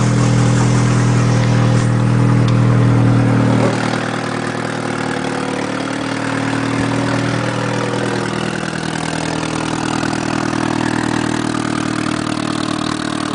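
A turbocharged car engine with an open exhaust runs loud and close, a deep throbbing idle that drops slightly after a few seconds and keeps rumbling steadily on its own.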